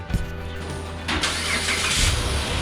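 A Dodge Challenger bought as a salvage auction find cranks and fires up, its engine catching and settling into a steady, rough idle close by.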